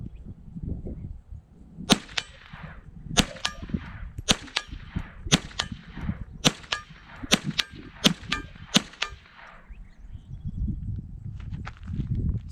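A suppressed Ruger 10/22 rifle fires about a dozen sharp, cracking shots in an uneven rhythm at roughly 50 yards, each a brief clipped pop over low outdoor rumble and handling noise.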